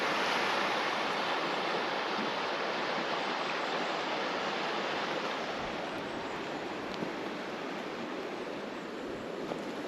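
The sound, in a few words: river water flowing under iron bridge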